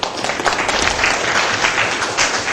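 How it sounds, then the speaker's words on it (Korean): Applause from the audience at a Korean career talk, a dense, steady patter of many hands clapping at moderate loudness for a couple of seconds, with no speech over it. "박수 한번 쳐주시죠"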